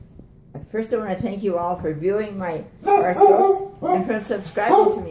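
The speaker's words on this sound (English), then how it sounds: "That's my dog." A dog whimpers and yips in a house, with someone talking over it throughout; the whiny, pitched dog sounds rise and fall in bursts between and under her speech.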